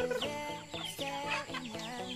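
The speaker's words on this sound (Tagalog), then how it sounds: "manok at saka pato, ang dami nila" Several chickens cluck in quick repeated bursts on a farm with ducks nearby, close and fairly faint, with overlapping calls throughout.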